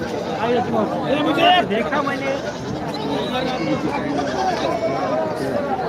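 Goats bleat repeatedly at a crowded goat market in Parbhani, Maharashtra, their wavering calls rising over a constant murmur of people talking nearby.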